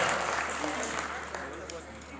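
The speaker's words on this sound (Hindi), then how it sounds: "एक बार ढंग से तालियां वालियां बजा करके बताओ, बजाओ यार" An audience at a Hindi poetry recital claps in a steady, fairly soft burst while a voice talks over it.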